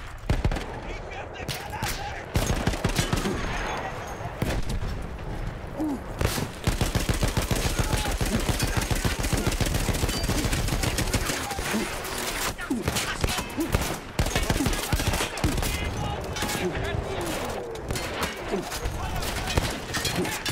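Heavy, sustained gunfire from enemy soldiers in the Battlefield 1 single-player campaign: dense rapid machine-gun bursts and shots that keep going with barely a break, loud and close, with a voice talking over them at times.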